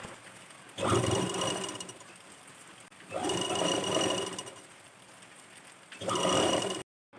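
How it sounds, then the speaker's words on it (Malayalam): Sewing machine stitching the sleeve side seam of a churidar top in three loud, close bursts of steady whirring, with short quieter pauses between runs. "ഇനി അതേപോലെ നേരത്തെ ചെയ്ത പോലെ മറ്റേ വശവും കൂടി ഒന്ന് സ്റ്റിച്ച് ചെയ്ത് കൊടുക്കണം"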